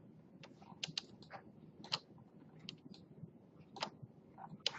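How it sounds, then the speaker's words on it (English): Soft computer keyboard key presses sound as a string of quiet, irregular clicks and taps close by, with short gaps between keystrokes over a faint background hum while modeling in Fusion 360. "you can click on it and hit the letter V on your keyboard"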